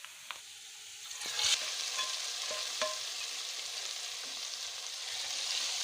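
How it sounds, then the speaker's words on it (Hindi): Soft, steady sizzling of hot oil tempering with garam masala in a pan for kadhi, with a few sharp crackles and clinks early on, fairly quiet and continuous. "फिर इसमें हम गरम मसाला ऐड करके कड़ी के ऊपर इसका तड़का लगाएंगे।"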